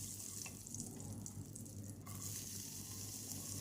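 Radhuni spice and two bay leaves dropped into hot oil for tempering, sizzling in a steady, fairly quiet hiss that carries on throughout.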